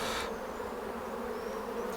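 Honeybees fill an open beehive with a continuous, even buzzing hum, steady and close throughout, with no talking.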